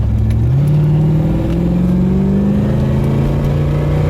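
A Chevrolet C4 Corvette Sport Coupe engine, struggling to rev past about 4,000–4,500 RPM, pulls hard under acceleration with a loud, continuous rising drone heard from inside the car.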